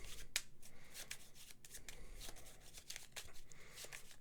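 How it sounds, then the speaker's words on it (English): A large stack of cards from a World of Warcraft: Wrath of the Lich King board game being shuffled, with faint repeated riffling and flicking bursts running quietly through the whole stretch. "this big old stack of pretty much everything in the game is going to get shuffled"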